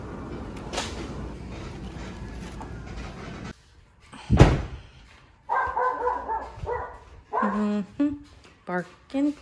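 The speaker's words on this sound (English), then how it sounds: "Barking, barking, barking." A dog gives several sharp barks in short bursts, close and loud, with a thump like a door closing and someone talking in between.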